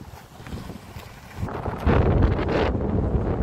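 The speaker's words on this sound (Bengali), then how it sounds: "প্রচন্ড বাতাস" Strong wind buffets the microphone in heavy, rumbling gusts that grow louder after a quieter start.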